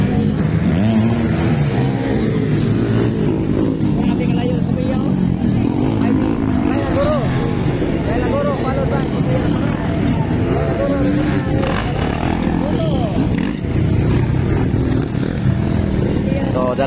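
Small underbone motorcycles race in a ladies' motocross final at a barangay track, their high, buzzing two-stroke-style engines revving continuously and loudly, with an excited commentator talking and crowd babble underneath.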